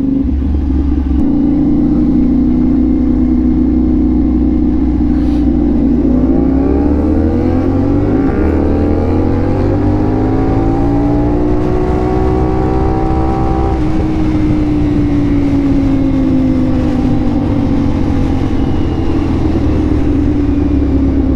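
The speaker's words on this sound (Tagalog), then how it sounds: "Parang baby R7 for me yung tunog ng 450 SR natin." A 450SR motorcycle fitted with an Austin Racing exhaust is being ridden, giving a loud, steady engine drone whose pitch rises and falls as it accelerates, under continuous wind rumble.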